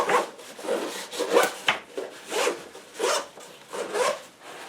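A zipper on a Spec Ops Pack Rat bag is pulled back and forth repeatedly, giving a series of rasping, rhythmic zips close by with short pauses between strokes.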